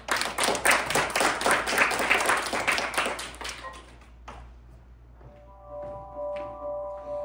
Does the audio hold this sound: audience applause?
yes